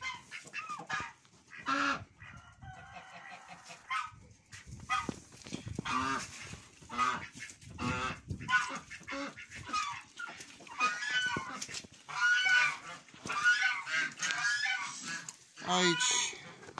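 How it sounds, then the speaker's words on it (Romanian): Curly geese on a farm honk in loud, brassy bursts, some nearby and some farther off, mixed with other farmyard calls and a person talking. "Iar aici am rămas cu gâștele crețe și cu rațele românești."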